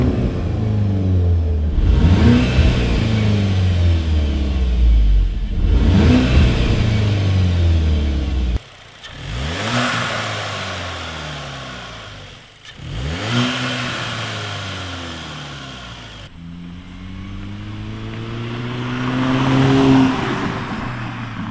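A VW MK8 GTI engine with its stock turbo inlet pipe revs repeatedly, each pull rising and falling in pitch through several loud, close-up bursts with brief dips between them and no talking.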